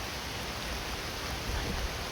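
Heavy downpour in a constant broadband roar, close and unbroken, alone without speech.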